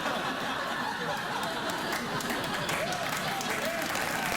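A late-night television studio audience applauds in a dense, steady wash of clapping mixed with chuckles and crowd chatter throughout.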